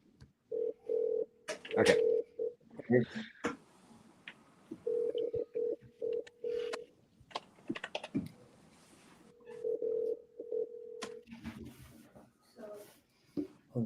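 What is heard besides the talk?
ringing sound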